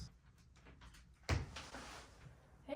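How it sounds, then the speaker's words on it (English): A door opens as someone comes home, giving a single faint thud and rattle midway through an otherwise quiet room. "I'm hearing him get in the door now"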